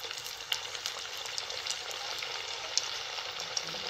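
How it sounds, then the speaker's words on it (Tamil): Soya chunk vadas fry in hot oil, giving a soft, continuous bubbling sizzle with faint crackles and small pops throughout. The sound is quiet and close. "இப்போ எண்ணெய் காஞ்ச உடனே வடையாக பட்டு போட்டுடலாம்."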